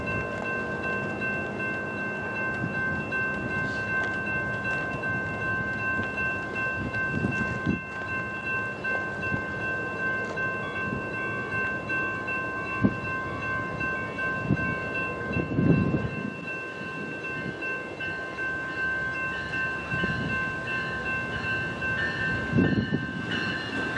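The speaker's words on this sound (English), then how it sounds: "Amtrak's Lincoln service was about to come by here after making its Bloomington stop" An Amtrak Lincoln Service passenger train passes near Bloomington, a steady rumble and rolling clatter of wheels with a faint high tonal ring throughout and some thumps as cars go by.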